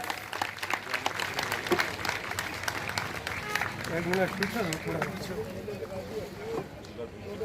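At a school founder's floral tribute ceremony, an audience claps in a steady, moderately loud patter, with a voice speaking over the applause.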